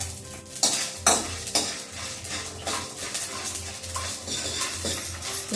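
Mustard seeds, coriander seeds, garlic and tamarind roasting in a pan for curry leaf powder, with a spoon stirring and scraping in repeated strokes over a light sizzle.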